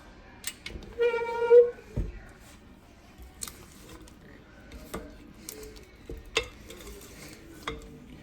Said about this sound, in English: One more scrape of the bowl